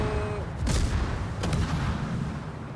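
Musashi battleship secondary guns in World of Warships fire as two quick booming reports over a continuous low rumble of ship engine and sea noise.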